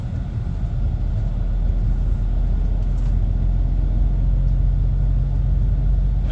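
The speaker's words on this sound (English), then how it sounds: "It's great driving the Scania again." Inside the cab of a Scania R450 truck on a road in Cumbria, a constant deep engine drone and road rumble hold steady throughout, close and even, with no voices.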